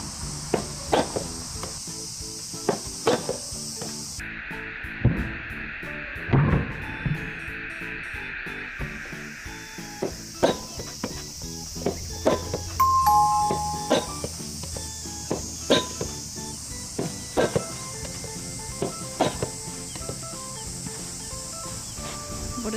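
Soft tennis balls struck with Mizuno and Yonex rackets, a steady run of crisp, sharp hits repeating at a regular rally pace, heard at moderate distance over a hissing outdoor background.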